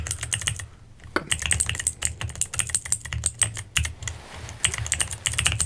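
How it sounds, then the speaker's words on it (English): Close, crisp typing on a computer keyboard in a quiet room, a steady run of rapid key clicks broken by short pauses, with a soft low hum underneath and no voices. "So it's gonna be a lot of typing."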